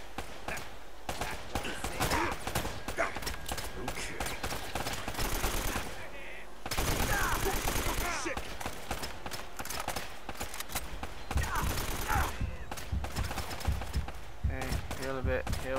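Rapid gunfire bursts and scattered single shots from the Uncharted: Drake's Fortune video game, loud and dense throughout with brief pauses, mixed with game sound effects and occasional voices.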